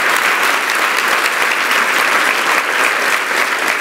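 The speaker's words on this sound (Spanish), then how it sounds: "Y pido otro aplauso para mi Dios poderoso." A church congregation applauds during a Spanish-language service, giving a dense, steady wash of clapping that holds at an even level throughout without pause.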